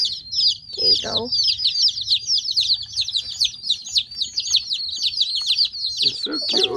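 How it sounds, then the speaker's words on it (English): Young dual-purpose chicks cheeping in a constant busy chorus of rapid high peeps, close by, while someone speaks softly to them in brief bursts. "It's so cute when they're scrambly little chickens."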